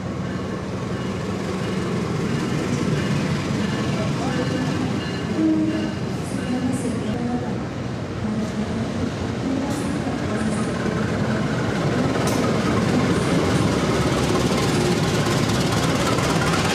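A passenger train hauled by a locomotive rumbles steadily past with a continuous heavy roar, occasional clicks of wheels on rail joints, loud and close for the whole stretch.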